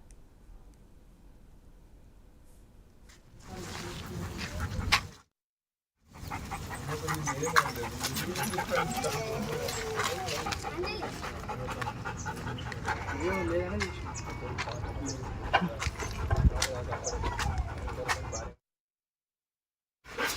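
A police narcotics sniffer dog searches the homes and surroundings of past ganja offenders in Mandamarri, Mancherial district. Panting and whimpering sit within steady voices and background noise, broken by two short silent gaps.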